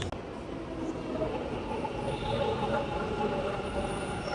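A Bangalore metro train runs along its line, giving a steady, fairly loud rumble and rolling rail noise with a faint high whine, continuous throughout with no talking.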